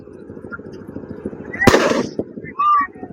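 Fireworks at a Ravan effigy burning during a Dussehra event in Chandawal, with a sharp loud burst and crackling pops rising over the noisy crowd and a voice talking throughout.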